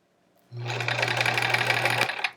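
A sewing machine runs in a fast steady chatter of needle strokes as it stitches a quilt sampler seam, loud and close after a brief quiet start, stopping just before the end.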